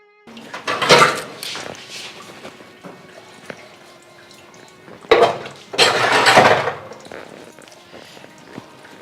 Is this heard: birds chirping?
no